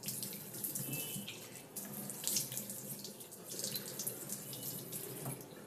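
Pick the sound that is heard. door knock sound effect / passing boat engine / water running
water running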